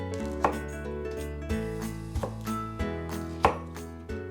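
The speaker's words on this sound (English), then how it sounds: "So first, I'm going to just chop the Brussels sprouts" A knife halving Brussels sprouts on a cutting board, several distinct sharp chops spaced irregularly, close and clear with no talking.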